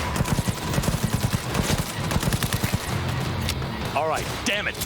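Rapid gunfire from a homing rifle in Cyberpunk 2077, a dense run of sharp close shots in quick bursts, giving way to rumbling impacts and a few warbling electronic sweeps near the end.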